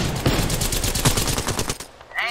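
Rapid bursts of automatic gunfire in the Apex Legends battle royale game, loud and close, rattling steadily for about two seconds before a brief gap.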